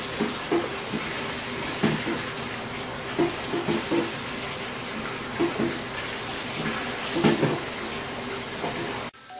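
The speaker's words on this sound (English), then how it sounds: "So I'm gonna wash my hair." Water running and splashing in a bathtub while hair is washed, a steady rushing wash with irregular soft sloshes and knocks, close by and with no talking.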